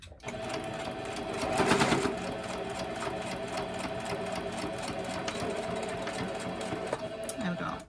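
A sewing machine stitches back and forth through thickening fabric scraps for a lip balm holder, a steady close mechanical whirr with a brief louder surge early on, and a person speaks over it.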